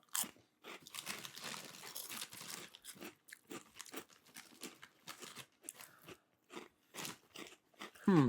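Masala Lays potato chips crunch loudly and close, bitten and chewed in a series of sharp, dry cracks separated by short pauses, with no talking.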